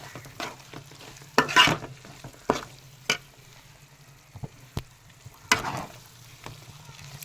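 Masala frying in oil for fish curry is stirred in a pan, a low sizzle broken by several sharp scraping strokes and clinks of a spoon at irregular intervals.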